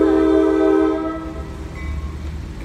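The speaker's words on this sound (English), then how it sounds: "The train's coming." A train passes a railroad crossing in Fair Lawn, New Jersey, its loud horn sounding in one long sustained blast that fades out, followed by the rumble and rattle of cars rolling by.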